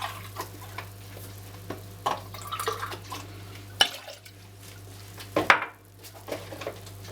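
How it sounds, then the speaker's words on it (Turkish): A spoon scrapes and knocks around a pot of pudding being stirred, with irregular clinks and soft stirring noises close by, over a low steady hum. "Kaynayıncaya kadar karıştırıyoruz."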